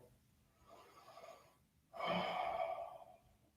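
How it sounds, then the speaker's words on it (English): Slow, deliberate breathing during a yoga session, close and soft: a quiet inhale, a pause, then a longer, louder airy exhale, with no talking. "you take a breath"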